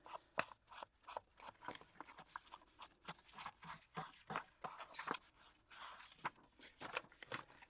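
Scissors snip and crunch through the edge of a book cover, the trimming of an 1881 German-English primer under repair; a quick, uneven run of close, crisp cuts with no talking.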